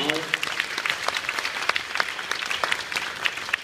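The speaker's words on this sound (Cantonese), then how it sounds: "首先要再一次用熱烈掌聲多謝我哋台上咁多表演嘅嘉賓同埋表演嘅各位小朋友" An audience at a school's 50th anniversary celebration applauds steadily, a dense patter of many hands clapping throughout. A voice speaks briefly at the start.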